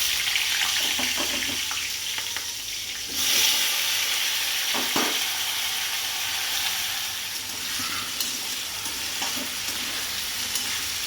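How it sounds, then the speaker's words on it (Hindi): Potatoes frying with cumin and asafoetida in a home kitchen pan give a steady, close sizzle with stirring scrapes, a louder burst near the middle and a faint splash of water under it, with no talk. "तो मैं बना रही हूँ जीरे और हींग वाले आलू"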